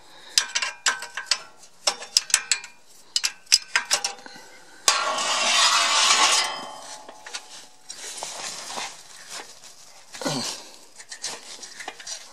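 Hand tools clatter and ratchet in close, sharp bursts while the valve cover is unscrewed on a walk-behind tractor with broken valves, followed by a longer scraping rasp and scattered metallic clicks.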